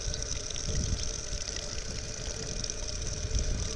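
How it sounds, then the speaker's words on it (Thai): Steady rushing water flows continuously from a stream, a broad constant wash with a low rumble underneath, fairly close and with no voices, by rice fields. "ไหลมาเรื่อยๆครับ"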